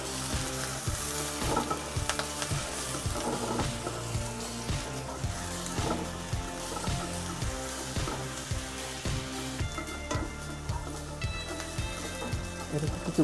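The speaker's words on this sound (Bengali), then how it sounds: "তেলটা আমার গরম হয়ে গেছে, আমি 1/2 কাপ পরিমাণ পেঁয়াজ কুচি দিলাম, এটাকে আমি একটু ভাজব।" Half a cup of chopped onions fry in hot oil for a Bengali dried shrimp dish, a loud continuous sizzle with regular scraping stirs throughout.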